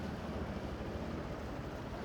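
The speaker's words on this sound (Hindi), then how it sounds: "चलो फिर से ये वाली नदी क्रॉस करते हैं अभी" A motorbike crossing a shallow, water-filled river track, a dense continuous rush of splashing water and engine roar with heavy wind buffeting, loud and steady throughout without pauses.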